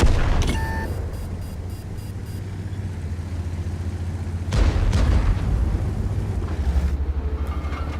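Heavy tank cannon blast in the World of Tanks game, fired from a T30 heavy tank as a kill shot, heard as one deep loud boom partway through, over a constant low engine rumble and game ambience.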